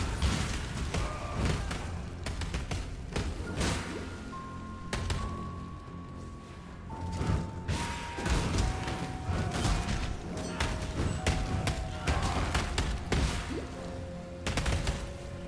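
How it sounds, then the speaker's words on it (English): Explosions in the action RPG Path of Exile, rapid repeated bursts and crackling impacts layered over steady game sound effects and music. "Right now the explosions are just added damage."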